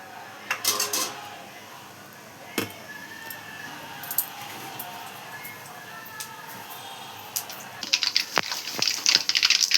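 Scattered sharp pops and crackles of mustard seeds in hot oil in a pan, irregular and moderately loud, with a denser burst of sizzling crackle toward the end.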